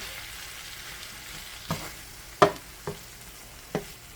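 Seasoning stirred into meat in a hot pan gives a low, soft sizzle broken by four sharp scraping or clacking strokes at uneven intervals.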